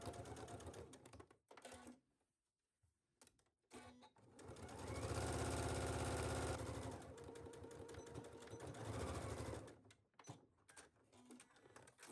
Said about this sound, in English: we'll sew this at 5/8 at our machine